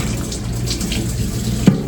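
Running water from a hose or tap rinses a filthy chair during cleaning, a loud steady rushing splash throughout, ending with a brief dull knock near the end, with no voices.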